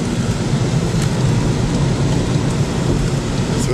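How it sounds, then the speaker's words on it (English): Heavy rain drums steadily on a moving car, with a low rumble of thunder and road noise underneath, loud and continuous throughout. "Well, here comes the rain again."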